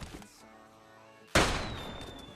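A single loud gunshot from PUBG Lite cracks suddenly and decays in a long echoing tail, following a steady low in-game hum.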